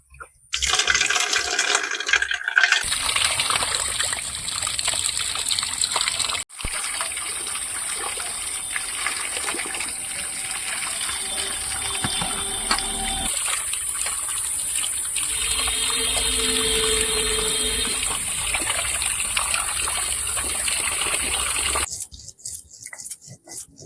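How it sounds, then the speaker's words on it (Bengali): Water gushes steadily from a tap for about twenty seconds while pomfret fish are washed, with a loud continuous rushing stream that shifts slightly in tone before cutting off abruptly near the end. "মাছগুলো এখন ভালো করে ধুয়ে নেবো"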